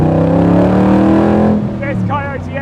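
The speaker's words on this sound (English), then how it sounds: "We've got the 5-litre Coyote V8 from Ford." Ford 5-litre Coyote V8 in a Shelby Cobra roars steadily at high revs, loud and close, then eases off as the note drops, with a voice briefly heard over the engine near the end.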